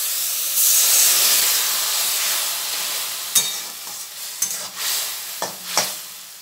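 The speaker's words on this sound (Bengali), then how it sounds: "আবার আমি এগুলোকে নেড়ে নেব। সামান্য একটু জল দিচ্ছি।" Ground coriander and turmeric are stirred in a hot pan, and a splash of water makes them hiss and steam loudly. As the sizzle settles, several sharp scrapes and knocks of the spoon against the pan follow, with no talking.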